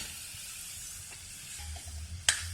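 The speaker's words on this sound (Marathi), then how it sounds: "आता आपला बटाटा पण भाजत चाललेला आहे, छान खरपूस तांबूस रंगावर भाजलेला आहे." Diced potato fries for sabudana khichdi in an oiled pan, giving a steady close sizzle and hiss, with a sharp clink of a utensil against the pan near the end.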